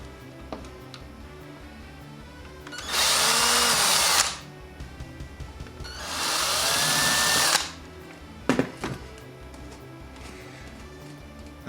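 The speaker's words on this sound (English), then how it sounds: "I'm just going to put some holes in just for our sockets to go through." A power drill bores socket holes into a Sega Master System II plastic case in two loud bursts of about a second and a half each, separated by pauses with small clicks and handling noises.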